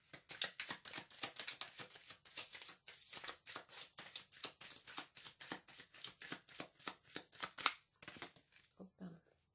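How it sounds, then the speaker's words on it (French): Tarot cards riffled and shuffled in a rapid run of crisp papery flicks, close and fairly quiet, ending in a few scattered taps and a brief soft voice. "Je vais tirer une autre carte."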